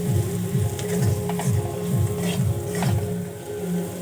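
Cabbage filling fries in a pan with a constant close sizzle, and a spatula stirs it in a slow regular rhythm, scraping and tossing about every three-quarters of a second.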